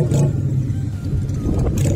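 Engines rev loudly and steadily at a cold Kiwi motorcycle rally as riders prepare for burnouts, including a 1970 Harley-Davidson Ironhead Sportster, forming a continuous low roar with slight swells and no talk.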